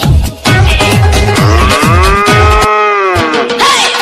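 A cow lets out a long, loud, close moo that rises and then trails off, with rhythmic thumping beats under it just before.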